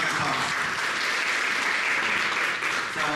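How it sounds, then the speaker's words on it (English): An audience at a convention committee announcement gives steady, dense applause throughout, loud and continuous, with no speech over it. "So please give him a big round of applause."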